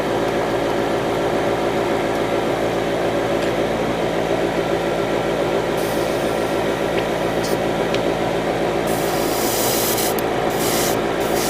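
Model paint is stirred with thinner for a 1/144 HG Zudah Gundam kit, a constant close rubbing and swishing against a steady hum, with a few faint clicks and brief hiss bursts near the end.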